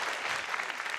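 An audience at a diplomacy contest final applauds, a steady wash of many hands clapping that is loud and continuous.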